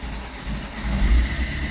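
An Opel Astra H with a semi-automatic gearbox, just repaired, starts up and revs: a loud, steady low engine rumble that swells as the revs climb, with no talking.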